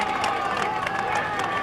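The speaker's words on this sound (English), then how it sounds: "They're politely applauding the three riders coming up for the Italian team." Belgian roadside crowd politely applauding three Italian-team riders on a climb during the 1994 Flèche Wallonne, a steady dense patter of clapping with murmuring voices throughout.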